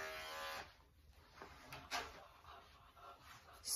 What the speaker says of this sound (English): you want to lift off with your clippers in like a scooping motion so that that line isn't so severe where the skirt is